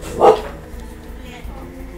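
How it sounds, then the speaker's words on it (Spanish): A single sharp dog bark rings out in the Metal Gear Solid video game, then fades into a low, quiet game background. "Ya se escuchó su primer ladrido."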